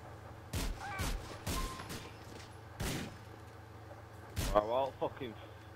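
Shotgun blasts in Grand Theft Auto IV free roam: about five sharp, separate booms spread out over a few seconds, with someone talking between and over them.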